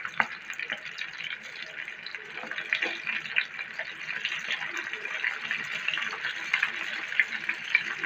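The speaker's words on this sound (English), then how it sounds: "Lagay na natin sa oil guys ang ating shrimp" Battered shrimp frying in hot oil, a steady broad sizzle with scattered crackles that holds at a moderate level throughout, close by and alone.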